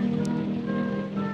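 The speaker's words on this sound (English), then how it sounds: "It's still raining." Rain falls steadily in a soft, continuous hiss with a low hum underneath, even and unbroken, with no voices.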